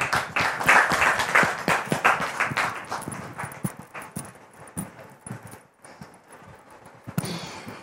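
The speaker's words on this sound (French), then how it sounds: "Recevons-le avec beaucoup de joie et des applaudissements nourris," A studio audience on a French-language talk show claps loudly at first, then the applause thins into scattered individual claps and fades before a final brief rise.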